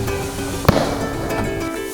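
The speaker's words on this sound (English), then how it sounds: "we heard the gunshot" A single distant gunshot during a deer hunt in swampy woodland, a sharp brief crack over steady outdoor background noise.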